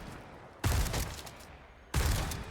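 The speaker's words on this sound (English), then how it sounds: "we'll fire a few shots" Two loud, sharp shotgun blasts, about a second apart, come from a hip-fired shotgun in Resident Evil 4 Remake. Each boom decays into a short rumbling tail.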